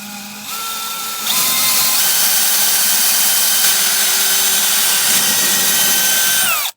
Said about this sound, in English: I'm happy with the hole saw method.